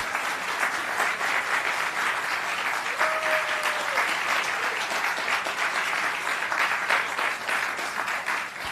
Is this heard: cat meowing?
no